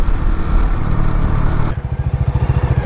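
A motorcycle with a replaced, modified silencer exhaust roars loudly up close, then drops to a throbbing, popping idle with a rapid rhythmic pulse, no talk.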